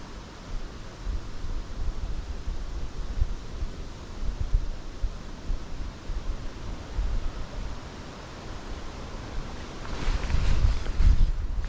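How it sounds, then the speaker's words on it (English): Wind blows outdoors beside the water on a fishing day, a continuous rough rumble buffeting the microphone with gusts that swell and ease, growing stronger toward the end. "The wind's coming from behind me now."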